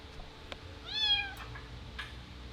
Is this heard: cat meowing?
yes